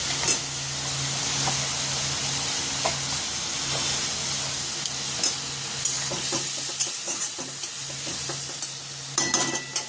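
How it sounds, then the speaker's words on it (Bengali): Potatoes added to hot oil for a curry, a steady close sizzle and hiss with stirring scrapes and a few clinks of the pan, loud and continuous, without talking. "তেল ছেড়ে গেছে, আলুটা দিয়ে দেবো"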